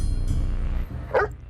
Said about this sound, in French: le chien aboie sur tout ce qui bouge, même sur les autres policiers